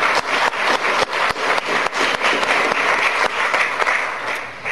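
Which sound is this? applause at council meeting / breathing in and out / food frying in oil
applause at council meeting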